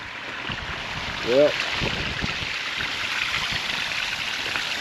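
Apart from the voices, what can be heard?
water draining out of an IBC water tote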